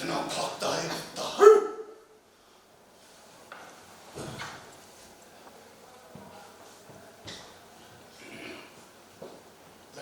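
A dog barks several times in quick, loud succession at the start, followed by quieter scattered thumps and noises in a mostly hushed room.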